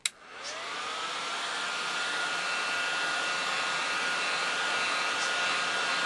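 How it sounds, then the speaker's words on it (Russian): A hair dryer switches on with a click on its lowest setting and blows steadily, a loud, even whoosh of air that holds constant throughout, heating thread to melt wax into it. "Включаем фен на первую мощность и начинаем аккуратно его прогревать"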